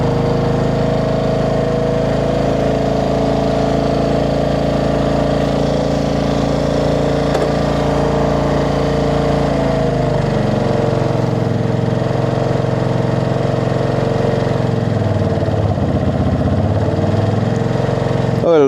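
A motorcycle engine idles steadily while warming up on a cold morning before a ride, a continuous near rumble that drops to a lower, rougher note about halfway through.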